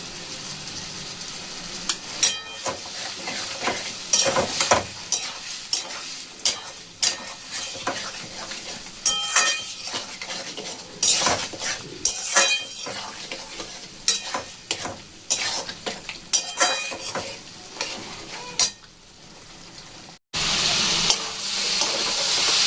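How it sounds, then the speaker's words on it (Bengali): Taro and potato being stir-fried in a pan, a dense crackling sizzle punctuated by frequent spatula scrapes and knocks, near and loud throughout, briefly dropping out before resuming toward the end, with no voices. "কষানো হয়ে গেল কচু আর আলু।"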